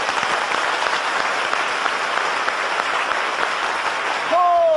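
A studio audience applauds in a dense, steady burst of clapping that fills the whole stretch, with a voice breaking in right at the end.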